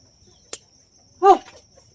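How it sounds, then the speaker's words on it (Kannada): A single short hen cluck from a laying hen follows a faint click, with a thin, steady high whine running in the background. "ನಮ್ಮ ಕೋಳಿ ನೋಡಿ ತತ್ತಿಗಾಕೆ ರೆಡಿ ಆಗತ್ತವ"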